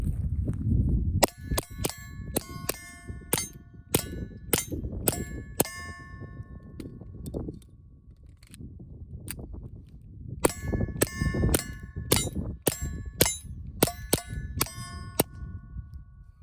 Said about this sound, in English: Is there anything more fun than shooting Suppress 22?